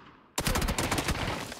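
Sudden loud burst of rapid gunfire in a squads shooter video game, a dense string of close shots firing continuously after a brief quiet start.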